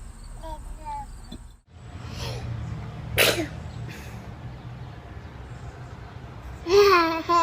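A baby sneezes once, a sharp close burst midway through, surrounded by the baby's soft babbling and cooing sounds and light room noise.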